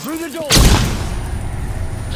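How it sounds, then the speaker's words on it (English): A flashbang grenade bursts after being thrown through a door in the video game Hunt: Showdown, a sudden loud bang at about half a second followed by a sustained ringing roar, with a brief voice just before the blast. "Flashbang through the door!"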